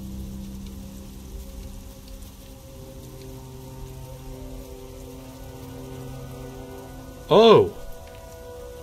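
Rain falls steadily across a video game forest at night, a soft, even patter under a low musical drone, broken near the end by a short startled exclamation from a voice.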